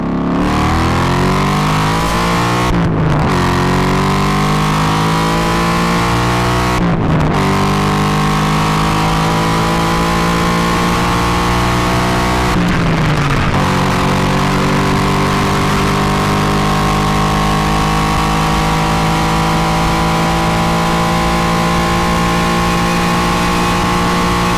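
A 7,500 RPM V8 car engine revs hard on the Autobahn, its loud, close wail climbing steadily through the gears with three short breaks at the shifts, and no voices.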